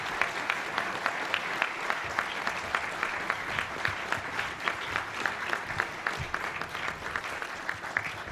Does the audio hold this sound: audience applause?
yes